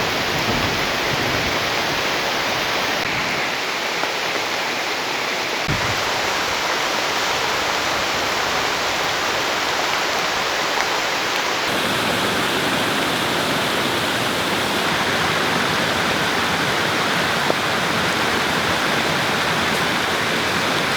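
Steady, dense rain pours down on a forest in a continuous loud hiss, unbroken across the whole stretch, with no voices.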